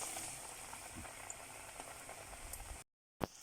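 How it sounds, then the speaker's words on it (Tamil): Onion bonda batter balls frying in hot oil give a steady, moderately loud bubbling sizzle that runs without a break, then cut out briefly and resume with a sharp burst. "இப்போ எண்ணெய் காய்ச்சதுக்கப்புறமா இந்த பாலை அதில் போட்டுடுங்க"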